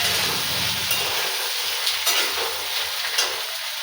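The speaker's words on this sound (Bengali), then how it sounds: "কাঁচা লঙ্কা ফোড়ন দিয়ে করছি" Green chillies crackle and sizzle in hot oil, a steady broadband frying hiss with a few sharper pops, close and alone without any voices.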